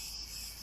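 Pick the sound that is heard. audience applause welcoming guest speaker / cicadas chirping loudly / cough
cicadas chirping loudly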